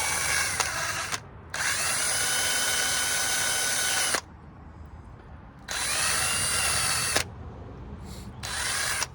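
A Craftsman impact driver whirs in three long, loud bursts with short pauses between, working on a 1980 Dodge D200 3/4-ton truck with a 360 V8.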